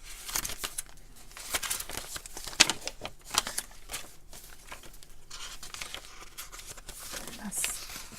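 Crinkly paper is rustled and handled up close in soft, irregular bursts of crackling, quiet overall.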